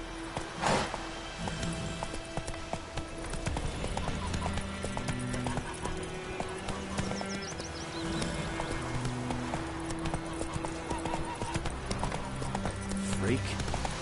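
The horse Roach gallops in a video game, hooves drumming in a fast, steady clip-clop rhythm throughout, with an occasional whinny and a person talking over the action.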